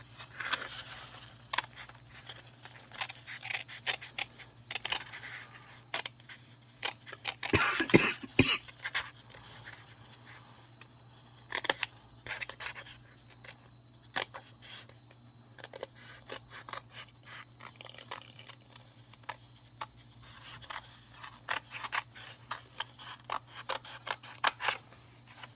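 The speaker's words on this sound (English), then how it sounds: "I should probably get my more fussy cutting scissors." Repeated crisp snips and rustles of small fussy-cutting scissors cutting through paper, close by, in irregular bursts with short pauses between cuts.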